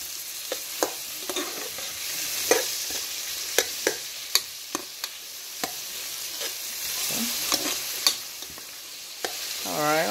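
Onion frying in heated olive oil in a pan, a steady sizzle broken by repeated sharp scrapes and taps of stirring.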